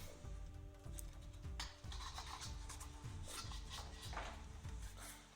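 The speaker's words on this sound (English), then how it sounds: "there's a groove that's being ground out of there with the Dremel" A Dremel rotary tool grinding a shallow groove into a part for a DIY R2-D2 holo projector, a continuous close rasping whine broken by repeated short scraping strokes.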